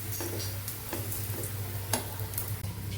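A millet rotlo packed with winter greens roasts in ghee on a pan, making a soft, steady sizzle with a few light taps and scrapes, heard close and quiet with no talking.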